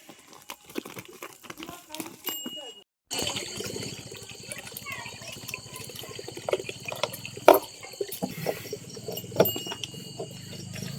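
Water runs and patters into a livestock trough amid crinkling and clattering, while crickets chirp steadily in the background.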